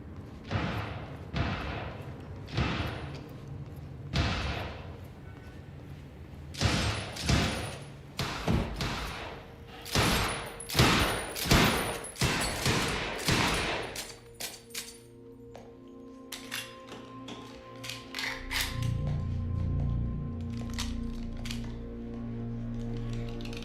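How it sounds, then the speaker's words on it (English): Gunfire in the video game Quantum Break: a sequence of sharp, loud shots and impacts, some clustered into quick bursts, followed by quieter clinks and a lower rumbling ambience. "I gotta check out that gunfire before I go anywhere else."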